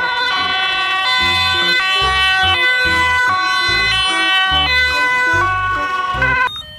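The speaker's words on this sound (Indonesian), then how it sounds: "Ini mobil ambulan." A toy ambulance siren plays a loud, electronic two-tone melody with repeating high notes and thumping low beats, close and continuous, cutting off abruptly at the end.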